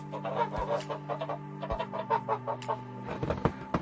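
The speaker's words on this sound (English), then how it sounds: "So I believe we have 1 gander and 5 geese" Geese, a gander and five geese, honk and cluck close by in a series of irregular calls, with a steady low hum running underneath.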